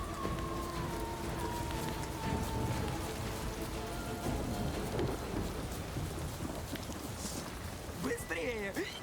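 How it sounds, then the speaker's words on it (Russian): Rainy thunderstorm in the video game The Witcher 3: Blood and Wine, with a continuous hiss of rain and low rumbling thunder, while people talk over it and a tonal sweep appears near the end. "Гроза, мать ее."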